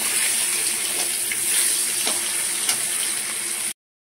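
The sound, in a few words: hilsa fish frying in oil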